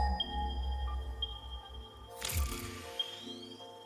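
A resource scanner pinging in the video game Satisfactory: a bright sweeping burst with crackle, set against steady electronic game tones and hum, then a rising tone trailing off.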